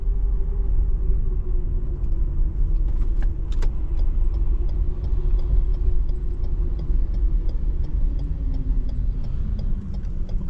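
Steady, dense road traffic in Phnom Penh, Cambodia, a continuous rumble of car and motorbike engines with passing vehicles and occasional faint ticks, loud and close throughout with no talking.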